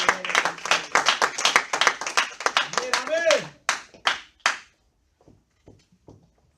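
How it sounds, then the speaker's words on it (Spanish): A church congregation claps in a quick steady rhythm, with a voice calling out over it before the clapping tapers to a few last claps. "Den un aplauso al Señor, hermano."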